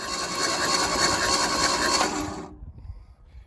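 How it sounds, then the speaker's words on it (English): A 1979 Jeep engine cranking over on the starter, a steady close mechanical whirring drone lasting about two and a half seconds before cutting off, leaving faint clicks and quiet room noise. "we can get to cranking this thing over"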